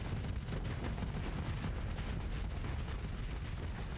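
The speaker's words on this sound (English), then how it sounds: "You think your plasma cannon scares me?" Plasma cannon fire in the space combat game Starsector, heard as a dense, continuous roar of rumbling blasts with no clear gaps between shots, steady and moderately loud throughout.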